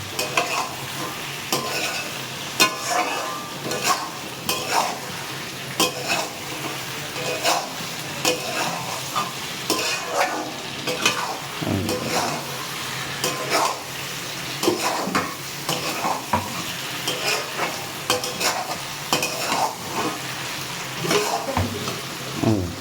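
Spices fry in a pan while a utensil stirs and scrapes them, a busy run of close clinks and scrapes over a continuous sizzle.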